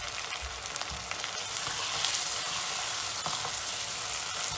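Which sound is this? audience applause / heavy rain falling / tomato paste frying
tomato paste frying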